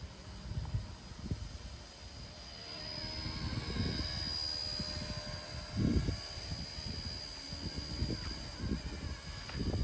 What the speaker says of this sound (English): It's a cute little helicopter.